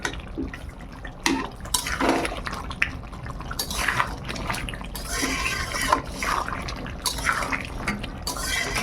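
Chicken simmers in an open pot over raised heat, a soft wet bubbling and sizzling as the water reduces, with occasional clinks of utensil against the pot.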